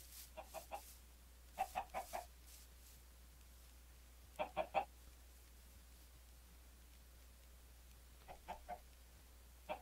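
A chicken in the Minecraft video game clucks in short bursts of three or four quick clucks, spaced apart over a quiet background, moderately close.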